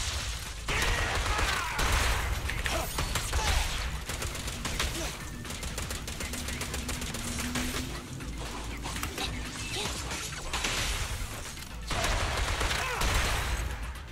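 Rapid turret gunfire rattles through combat in the action game Zenless Zone Zero, a dense, loud, continuous barrage of shots and mechanical clatter layered with impacts, fading slightly midway before surging again, with no talking.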